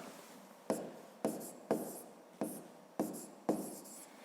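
A pen writes fractions on paper in a grade-5 maths exercise, six evenly spaced strokes, each a sharp scratch that trails off, close and quiet with no talking.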